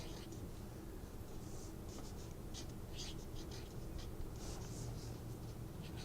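A word is written on a card with a pen, a quiet scratchy scribbling in short bursts, close and faint against low background noise, without talking.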